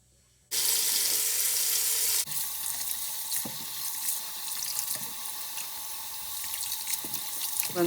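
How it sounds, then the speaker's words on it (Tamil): Lemons for a pickle are washed under running tap water in a sink, a sudden loud rush of water giving way to softer splashing and rubbing that continues for several seconds. "இந்த தேசிக்காய் எல்லாம் வடிவாக கழுவி ஒரு கொஞ்சம் தண்ணித்தன்மை இல்லாமல் வடிவாக துடைச்சி எடுக்க வேணும்."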